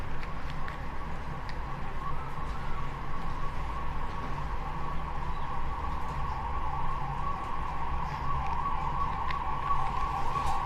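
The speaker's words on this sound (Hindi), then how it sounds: "एम्बुलेंस की आवाज़ आ रही है।" A wailing ambulance siren sounds steadily in the distance, a sustained tone over constant background noise, with no one talking.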